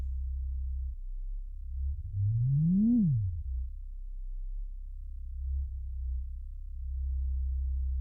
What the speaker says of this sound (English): now I'm on the sawtooth